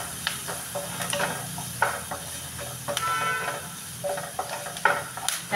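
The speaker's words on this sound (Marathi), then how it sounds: "चांगलं परतून घ्यायचं." Curry leaves and seasoning are sautéed in a pan while making shevaya uppit (vermicelli upma), giving a moderate crackling sizzle with intermittent scraping and stirring clinks, close and without talk.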